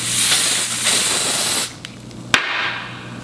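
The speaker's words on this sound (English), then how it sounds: "I'm gonna use my Ebin Wonder Lace Bond Spray" Ebin Wonder Lace Bond aerosol spray hisses onto the lace of a braided wig in a long, steady close blast that cuts off, followed by a couple of faint clicks and a sharp tap.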